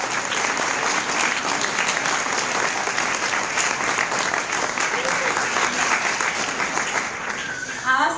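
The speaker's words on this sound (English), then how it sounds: "I think you deserve a round of applause" Sustained applause from a crowd at an award speech fills the whole stretch, loud, even clapping that tapers slightly near the end.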